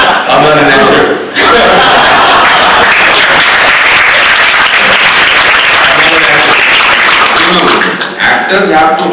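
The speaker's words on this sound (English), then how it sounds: "you got a clap" Loud, sustained audience applause with clapping fills a conference hall during an onstage interview session in Mumbai, running steady for several seconds and fading briefly near the end, with chuckles mixed in.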